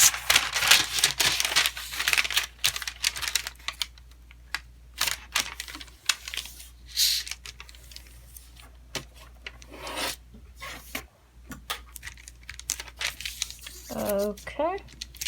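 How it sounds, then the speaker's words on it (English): Origami paper for a Venus flytrap model being folded in half and creased sharply, with close crinkles, rubbing strokes and scrapes coming in bursts, ending in a brief voice. "Now let's fold it horizontally in half,"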